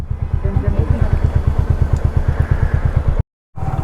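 A motorcycle idles close by in a parking area on a ride from Kanakapura to Malavalli, its engine thumping in a steady, loud, even beat that drops out briefly near the end, then resumes.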